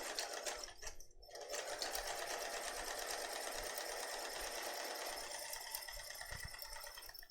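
A sewing machine runs steadily at close range, stitching a key fob with a 3 mm straight stitch and a chrome needle, a continuous dense whir with a brief dip near the start.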